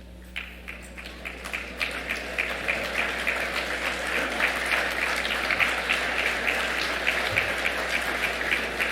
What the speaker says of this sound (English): Please again give this folks a round of applause